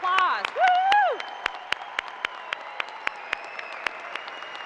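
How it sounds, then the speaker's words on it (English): Graduation audience at a university recognition ceremony, where a voice and a whoop come first, followed by a thin run of scattered, evenly spaced individual claps rather than a full ovation. "yes, go ahead, round of applause"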